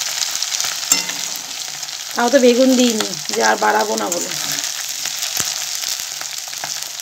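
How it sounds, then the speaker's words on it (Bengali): Potatoes and onions frying in oil in a home kitchen, a steady hiss running the whole way under a voice speaking in two short bursts. "সেই তেলে আলু পেঁয়াজ দুনিয়া ভাজা হয়ে যাচ্ছে"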